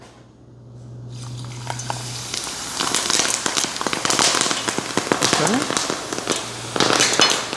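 Quicklime slaking as water is added, a dense crackling and hissing fizz that builds and sputters steadily, loud and close, with a brief word spoken near the start.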